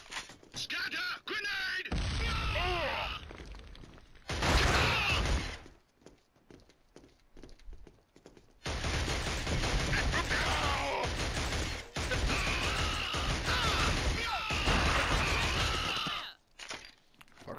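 Enemy shotgun fire in the PS3 shooter Killzone HD, on a docks level: several loud, harsh blasts and crashes in bursts, with a quiet gap in the middle, mixed with game effects and talk.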